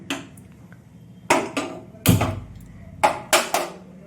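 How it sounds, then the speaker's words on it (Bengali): Metal kadai set down on a home kitchen stove while cooking Bengali soybean and potato curry, several sharp clanks and knocks in uneven bursts, close and fairly loud, with no talk. "কড়াই বসিয়ে দিয়েছি।"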